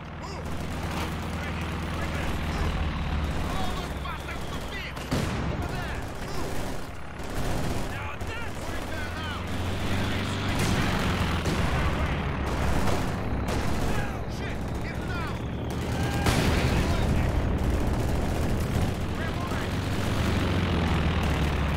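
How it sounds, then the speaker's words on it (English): Continuous battlefield din in Company of Heroes 2, with dense bursts of machine-gun fire and booming shots layered under loud, overlapping voices talking throughout. "May machine gun sa likuran."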